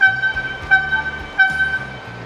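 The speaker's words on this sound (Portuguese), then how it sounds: "Esse carro também tem uma buzina de época" An antique horn on a vintage car sounds in three short, loud toots with a reedy, harmonic tone and brief gaps between them, close by and with no talking.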